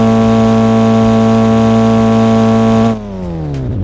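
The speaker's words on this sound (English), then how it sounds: "But just listen to this rev." Roblox car engine revs in a high sustained whine with a steady buzzy drone, loud and close, then suddenly drops off and winds down in pitch after about three seconds, with no talking.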